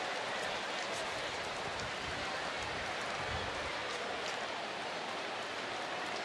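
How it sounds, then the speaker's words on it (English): Heavy rain pours down steadily during a Rangers–Diamondbacks baseball game, a dense, continuous hiss filling the ballpark with no voices over it. "Now it's raining a little harder. It has just this instant started to pour."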